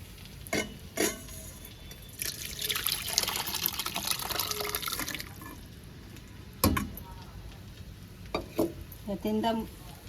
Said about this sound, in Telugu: ఈ చారు బౌల్లోకి తీసుకుందాము